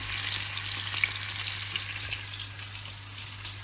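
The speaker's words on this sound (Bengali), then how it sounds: "এদিকে এই জিনিস মাছ ভাজা দিচ্ছি" Fish frying in a pan on a gas stove, beside a pot of khichuri, giving a steady, close sizzle of hot oil that holds evenly throughout with no talk.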